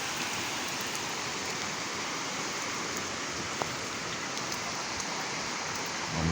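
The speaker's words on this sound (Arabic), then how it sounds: "أمطار خير كثيرة، جو جميل، جو جميل جدا." Heavy winter rain pours down in Amman, an even, dense hiss of steady rainfall with occasional faint ticks, continuous and unbroken throughout.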